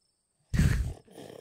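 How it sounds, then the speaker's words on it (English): A sudden loud, percussive creature snort in the horror game Scarlet Hollow, bursting out of silence as a single rough blast that tails off into a quieter, breathy rumble. "Your quiet moment with Stella is broken by a loud percussive snort."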